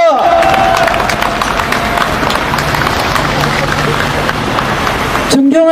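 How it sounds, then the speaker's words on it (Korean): At an election campaign rally outside a Home Ever store in Uijeongbu, a crowd claps and cheers to welcome a speaker, giving a loud, continuous wash of clapping and shouting that ends abruptly. "힘찬 박수로 모시겠습니다."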